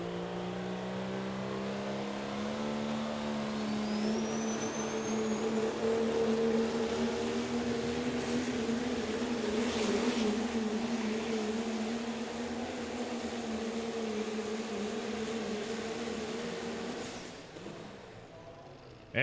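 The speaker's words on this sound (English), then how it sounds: "as we continue on here with our Pro Stock diesel trucks" A Pro Stock diesel truck pulls a sled at a Pro Pulling League event in Terre Haute, Indiana, its engine a loud, sustained roar that holds steady for most of the pull before dropping off near the end.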